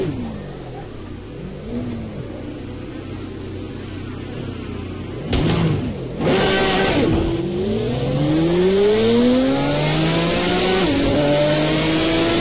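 Race car engines roar in a racing video game on the Mojave Gila Crest track, loud and continuous, with rising and falling revs as cars accelerate and shift, one car sweeping past close by.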